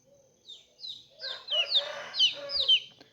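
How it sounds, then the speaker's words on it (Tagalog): Small chickens on a rural roadside cluck and chirp in a string of short, rising calls, fairly close and clear over a quiet background, with no one speaking. "May mga little chickens."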